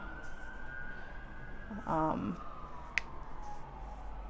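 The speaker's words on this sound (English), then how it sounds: "The siren's passing, so I kind of wanted it to pass." A siren wails steadily in the distance, a long faint tone drifting slightly in pitch, with a brief louder burst of sound partway through.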